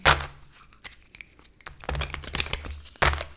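Papery riffling and slapping of tarot cards being shuffled in several bursts, close by, with crisp crinkly texture between quieter pauses.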